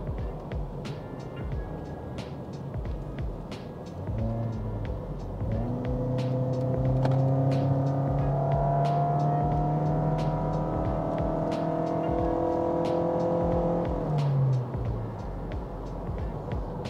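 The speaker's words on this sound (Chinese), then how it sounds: "那真的只是在控制油门的情况之下，这台车就已经可以很轻松的上那种山路" A Toyota Yaris G-Limited fitted with a Racechip tuning module climbs a mountain road. Its engine note rises steadily as it accelerates, holds a strained drone, then eases off. Road rumble sits underneath, and nobody speaks.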